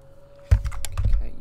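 Computer keyboard keys pressed in a quick cluster of clicky taps during a video game, heard close over a faint steady hum from the game.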